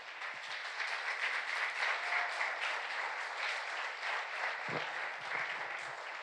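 A church congregation applauds during a Spanish-language worship service, steady dense clapping from many people that holds evenly throughout, with a brief faint voice near the end.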